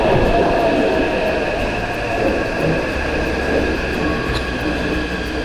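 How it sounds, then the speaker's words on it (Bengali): A metro train arriving at a station in Taiwan, its loud rumbling roar with sustained tonal wheel squeal and screeching overtones, steady and close throughout. "লাইট জ্বলছে মানে এই দিকে এরপর ট্রেন আসছে, এই যে চলে এসছে।"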